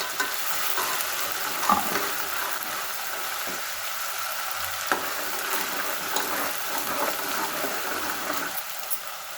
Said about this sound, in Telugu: అల్లం పేస్ట్ అయితే వేగిందండి.